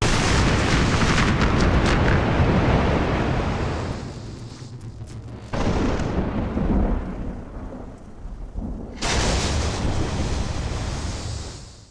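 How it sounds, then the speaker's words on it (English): A loud, booming crack of thunder rolls and rumbles, fades briefly, then surges again with a heavy roar like a storm close by. "That thunder, that's intentionally supposed to be super loud"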